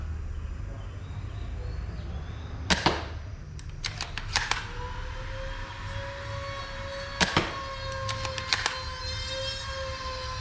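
A CM701 BB gun firing 6 mm steel or ceramic pellets at about 500 fps gives several sharp cracks, spread out over an outdoor background with birds chirping. No one speaks.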